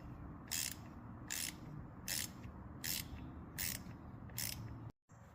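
Six evenly spaced clicking ratchet strokes from an 8mm ratchet wrench tightening the oil drain plug on a Honda Monkey motorcycle, close and fairly quiet, ending with a short silence.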